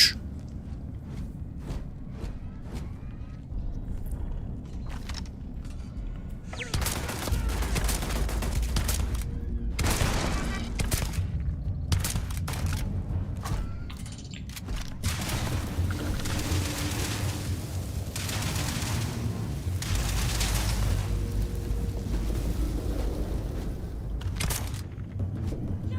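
Video game combat with grenade explosions and gunfire, dense rolling bursts of shots and booming blasts that keep building after a quieter opening, loud and continuous with no speech.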